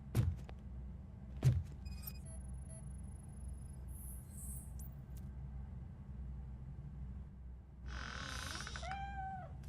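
A cat meows a few times in the video game RoboCop: Rogue City. The short, faint cries rise over a low ambient rumble along with a couple of thumps and electronic tones, and nobody speaks.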